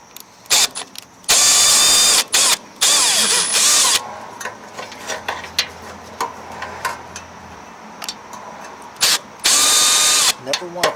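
A power drill drives a tech screw into a supported panel while installing a light on a Snapper 824 snow blower, loud whirring bursts of a couple of seconds each, near and close, separated by quieter pauses with faint handling noise.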